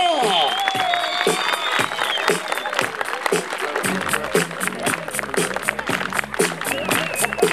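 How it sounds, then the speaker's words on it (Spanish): Dense applause and cheering from a crowd greeting a Michael Jackson impersonator on stage, a steady wash of clapping with crowd noise and some shouting mixed in throughout. "¡Fuerte el aplauso!"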